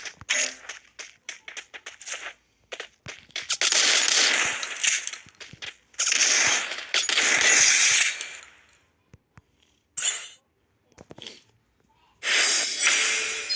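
Gunfire from a gun in the Tamil-played mobile game Free Fire, with rapid bursts of shots and longer sustained volleys at full loudness, separated by short gaps.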